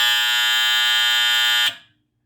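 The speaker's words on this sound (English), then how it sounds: "making this buzzer here under the little tilt mechanism stay on for only a few seconds" A pinball machine's tilt buzzer blares loud and steady for under two seconds, then cuts off abruptly into silence.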